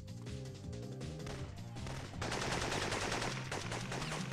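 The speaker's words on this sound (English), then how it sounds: "there's shooting going on at the theater." Gunfire at the theater in the PS1 video game Syphon Filter: a continuous rattle of shots, growing denser and louder after a couple of seconds, set against game music with no talk.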